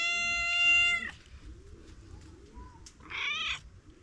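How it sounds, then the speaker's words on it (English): A cat meows close by in the countryside: one long, loud tonal meow, then a quieter pause with faint background, and a second shorter meow. "That is my cat"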